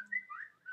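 A phone's whistle-style notification goes off indoors, a short rising-and-falling tonal whistle repeated in quick bursts, fairly clear but not loud, with no talking over it.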